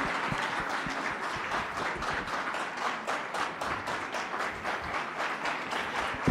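At a film success celebration, a crowd claps steadily, with individual hand claps audible in a brisk, even patter that holds for several seconds.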